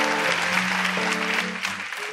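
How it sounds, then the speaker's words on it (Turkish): Studio audience applause on a Turkish TV comedy show, a steady wash of clapping under a held musical tone that fades slightly toward the end. "Burası alkışlarla gönder yani."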